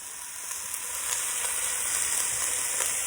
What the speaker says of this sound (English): see how the onions and the garlic are translucent and the rice is well coated with the oil